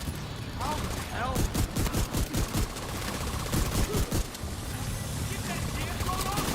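Gunfire in the Division 2 video game: bursts of rapid automatic shots in quick rhythmic volleys, loud and close, with voices talking over the battle.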